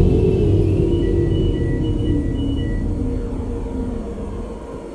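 A train in the Roblox game Trainware gives off a low, steady rumble that fades gradually as it rolls along, with no voices over it.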